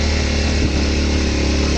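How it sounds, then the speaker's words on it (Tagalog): Motorcycle engine laboring up a very steep uphill road, a loud, steady close-up drone with constant engine rumble and no break in the sound. "Nadala yung motor."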